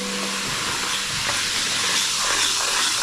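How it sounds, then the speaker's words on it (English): Bicarbonate soda and white vinegar being stirred together into a paste, a steady fizzing hiss with soft scraping, loud and close with no pauses. "You're going to mix these up so it becomes a paste."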